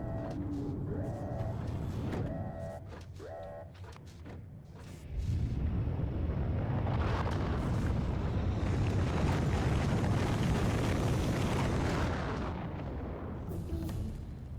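A rocket lifts off from a rocket silo in the video game Factorio, a layered sequence of game sounds that builds into a loud, sustained roaring rumble lasting several seconds before easing slightly at the end.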